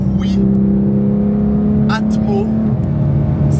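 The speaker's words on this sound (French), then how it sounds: "En plus en boîte manuelle tu peux la faire monter dans les tours, tu entends le bruit." A Porsche 911 GT3 Touring with a naturally aspirated 4-litre flat-six and manual gearbox revs up, its engine holding a strong, steady drone before the pitch shifts partway through. A few brief sharp noises sit on top.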